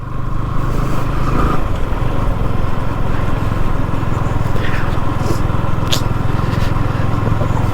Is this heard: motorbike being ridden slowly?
yes